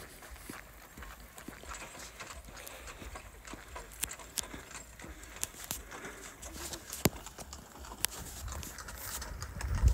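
Horses pass by outdoors with a faint, irregular clip-clop of hooves on a village road, some birds calling in the background and the hoofbeats growing slightly louder toward the end.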